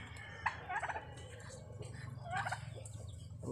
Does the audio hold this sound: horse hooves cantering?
no